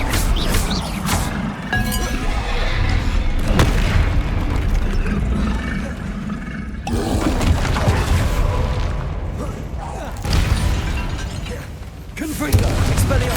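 Booming blasts of the Confringo fire spell from the game Hogwarts Legacy, several explosive bursts with crackling debris layered over continuous game music and effects.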